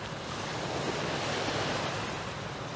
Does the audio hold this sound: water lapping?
yes